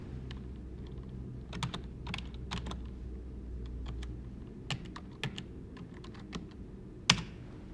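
Typing on a computer keyboard to enter a username and password at a smart cabinet login prompt, a steady run of close, quick clicking keystrokes with a few louder key hits near the end.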